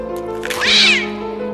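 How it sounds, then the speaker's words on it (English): A little kitten gives a single clear, rising meow, close and loud, lasting about a second. "where she slowly picked up a little kitten."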